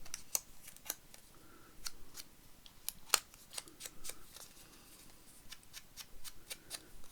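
Scissors trim the edges of a Tim Holtz paper craft tag in a run of crisp, close, quiet snips at an irregular pace.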